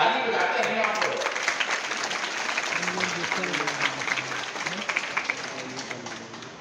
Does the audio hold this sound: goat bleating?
no